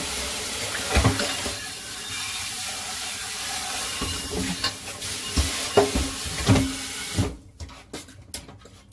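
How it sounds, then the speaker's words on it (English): Dishes are washed in a kitchen sink under steady running water, with clinks and knocks of crockery scattered throughout before the flow cuts off near the end. "we're gonna do our dishes"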